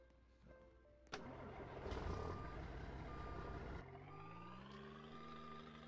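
A truck in the Roblox video game shifts into reverse, with a steady reversing beep over a mid-pitched engine hum that rises and holds, loud and close with no talk.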